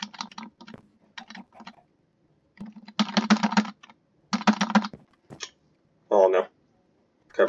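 Bursts of rapid keyboard typing, clattering in quick runs with pauses between, close and fairly loud, with a few brief vocal sounds mixed in.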